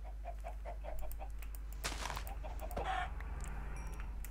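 Video game chickens cluck repeatedly, and a louder squawking burst rises midway over a constant low game hum; no one speaks.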